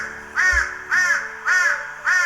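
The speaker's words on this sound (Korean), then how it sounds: "까마귀들이 울어대는 소리에 엘리야는 잠에서 깨어났습니다" Crows caw loudly and close by in a regular series of four long, harsh calls, evenly spaced, with no voices around them.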